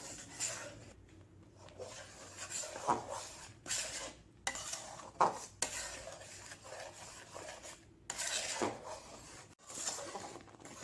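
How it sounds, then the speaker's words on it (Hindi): A spoon stirs thickening milk in a pan while khoya is being made, giving soft repeated scraping and clinking strokes at a quiet level with brief pauses between them. "आप स्पून कंटिन्यूअसली हिलाते रहिए। अगर आप 1 सेकेंड के लिए भी रुकेंगे तो ये नीचे से पकड़ लेगा।"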